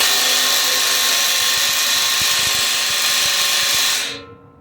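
A seesii 1/2-inch right angle cordless impact wrench set to high torque runs loud and close, a continuous high-pitched whine with rapid hammering pulses as it drives a fastener, then winds down and cuts off near the end.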